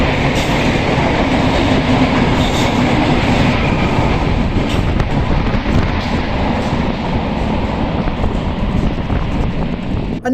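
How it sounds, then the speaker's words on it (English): Two trains pass at once on adjacent southbound tracks in Rotterdam, a loud, continuous rumble with rhythmic clickety-clack of wheels on rail joints and rushing wind, sustained close by throughout. "2 trains came exactly at the same time on the 2 different southbound tracks"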